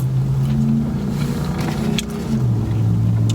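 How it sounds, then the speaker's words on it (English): A truck engine running rough idles with a low, uneven drone and shifting tone, running steadily throughout with a faint rattle and no voices. "truck probably needs to go into the shop. It does not sound very good."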